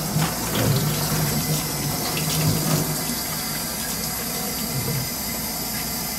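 Running water from a tap pours steadily while an elbow is washed, a continuous close splashing rush throughout with no talk.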